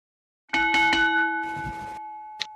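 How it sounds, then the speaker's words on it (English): A wrestling ring bell in a Second Life virtual wrestling show rings out with several quick clangs and a long sustained metallic tone, followed by one more short strike near the end. "There's the bell."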